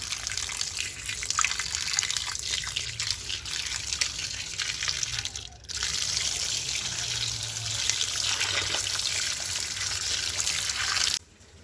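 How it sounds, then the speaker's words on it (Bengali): Cut fish is washed under running tap water. A steady, close gush of water plays for about eleven seconds, with a brief dip midway, a few splashy changes, and an abrupt stop at the end. "মাছটা এবার ধুয়ে নিই ভালো করে।"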